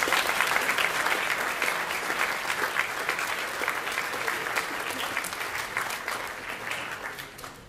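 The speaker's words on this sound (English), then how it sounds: "Let's give a round of applause to our juniors." An audience at a school awards assembly applauds the juniors with a steady, dense round of clapping that fades slightly over several seconds. No voices can be heard over it.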